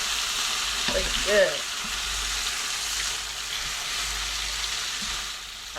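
Pork loin chops fry in about a quarter inch of oil with a tablespoon of butter, giving a steady broadband sizzle throughout. A brief clatter of stirring comes near the start, and a voice speaks briefly over it.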